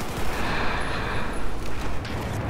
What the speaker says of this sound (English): the gun I'm using here is the L8582, which is the British assault rifle